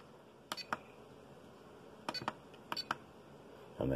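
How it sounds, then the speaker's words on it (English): An RC car's Hobbywing AXE electronic speed controller with a 3300kv 550 motor beeps in short bursts on a 3S battery, several sharp close electronic chirps spaced apart, then a louder rustle at the end. "3 beeps because it's a 3S pack"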